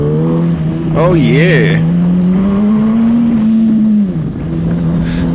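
A motorcycle engine drones steadily while overtaking on the outside of a turn, pitch rising and dipping with throttle changes, close and loud with someone briefly speaking over it.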